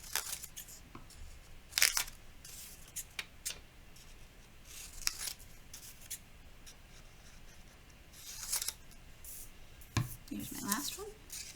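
Scissors cut through paper in a quiet room, with irregular soft snips and crisp bursts of paper rustle spread across the stretch, fairly faint and close.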